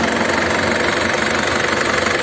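A 2003 Yamaha LS Black Panther motorcycle engine idles nearby with a steady, rough mechanical rumble and fast knocking pulse, loud and continuous with no voices.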